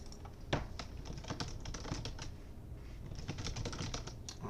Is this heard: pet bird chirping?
no